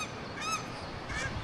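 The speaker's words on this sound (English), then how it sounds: "Those are paradise ducks." Paradise ducks honk in a couple of loud, nasal calls close by, two bursts in quick succession over light background noise outdoors.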